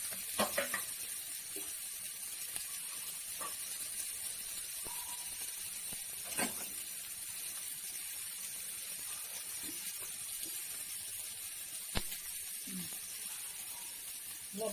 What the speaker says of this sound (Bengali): এগুলো ভাজা হোক